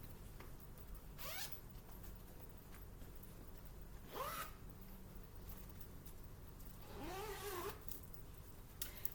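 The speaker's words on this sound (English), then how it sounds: "So you have zipper pockets on the outside." Three separate zipper pulls on the outside pockets of a bag, each a short rising rasp, spaced a few seconds apart over a quiet background hiss.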